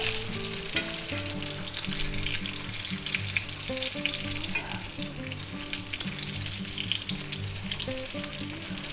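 Breaded beef milanesa steaks fry in a pan of hot oil with a loud, steady, close sizzle and crackle throughout. No one speaks over it.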